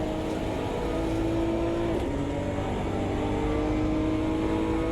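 A race car engine drones steadily in a video game with a sustained mid-pitched tone, a slight pitch shift partway through, and no one speaking.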